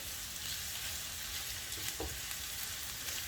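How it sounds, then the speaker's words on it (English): Garlic ginger paste frying in a pan, a steady soft sizzle with light crackle held at an even level throughout, with a brief stir or scrape near the middle. "Add in the garlic ginger paste."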